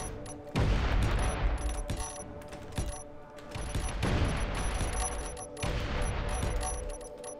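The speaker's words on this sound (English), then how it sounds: "Let's just go ahead and give a blast of a few of these things popping in here" Rapid bursts of explosions from suicide drones detonating in the game Space Engineers, a dense, continuous barrage of booms and crackling blasts that swells and eases in waves, loud and close throughout.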